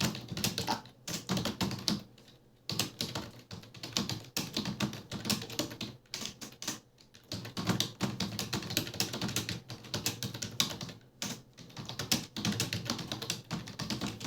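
Rapid, steady typing on a computer keyboard, dense clustered key clicks running continuously with brief pauses, close and fairly loud with no talking.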